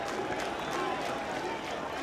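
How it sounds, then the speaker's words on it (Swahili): Fans at a CRDB Bank Federation Cup football match between Yanga SC and Polisi Tanzania applaud and cheer a goal with a steady, dense roar of clapping and crowd noise. A commentator talks over it. "anapiga makofi na kupongeza kile ambacho kimetokea"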